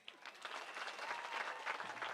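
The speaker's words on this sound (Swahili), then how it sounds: "Rigiji, reke ito muhurire makofi" Audience applause at a political gathering in Murang'a, Kenya, honouring the Deputy President; steady sustained clapping from a crowd, fairly distant and even throughout with no speech over it.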